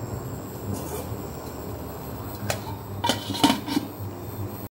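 A lid is set on a cooking pot of Pahari chicken, with a few light metallic clinks and clatters over a steady kitchen background hum.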